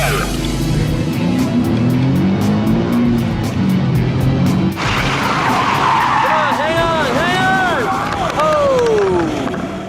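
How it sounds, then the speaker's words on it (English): A race car braking hard and skidding sideways into a parking box at a GT Academy driving trial: a loud engine drone, then a long, close, wavering tire squeal. "I controlled the braking fairly well. I did end up parking sideways."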